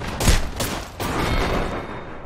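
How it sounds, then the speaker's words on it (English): Wingman pistol shots in Apex Legends: loud, close reports, the first a heavy booming blast followed by further shots and a long, rumbling sustained burst of gunfire. "Didn't miss a single fucking wingman shot."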